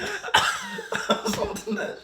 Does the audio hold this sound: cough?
yes